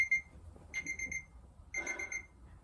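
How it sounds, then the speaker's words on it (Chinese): Several novelty alarm clocks, one shaped like a claw-machine toy, ring with high electronic beeping in two bursts, a short one and then a longer, denser one, loud and close with no talk. "你到底买了几个闹钟啊？"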